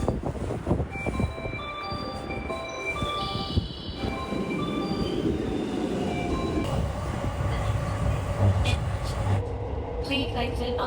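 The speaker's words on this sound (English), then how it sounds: "That's the train." Train running on rails on the route up Mt. Agato near Kyoto, a steady rolling rumble with brief squeal-like tones throughout, under a station announcement and nearby chatter.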